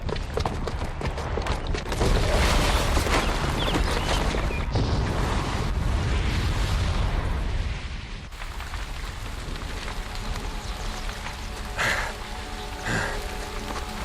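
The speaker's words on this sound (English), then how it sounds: "the booby trap on the bomb downstairs is gonna get set off" A bomb explosion in Horizon Zero Dawn, a loud sustained roaring rumble with crackling debris that swells early, then drops off into lighter rattling and scattered impacts.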